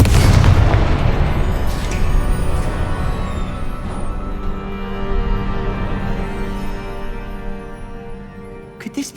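A Confringo blasting spell detonates in Hogwarts Legacy, a loud booming explosion that hits at once and then rumbles and decays slowly over several seconds, with faint crackling debris as it fades.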